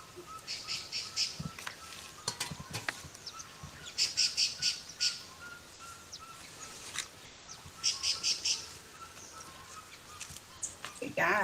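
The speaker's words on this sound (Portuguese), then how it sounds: "Esse som que vocês estão ouvindo da cigarra é real," Cicadas buzz in repeated pulsing bursts while parakeets squawk intermittently outdoors, moderately distant, with people talking softly in the background.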